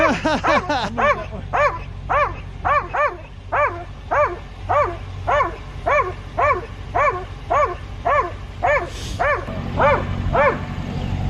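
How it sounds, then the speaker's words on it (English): A dog barks repeatedly and loudly in a steady rhythm close by, around a dozen sharp barks, heard during a tense ID refusal confrontation with no talk over it. "Sorry, I can't hear you because you're agitating the dog."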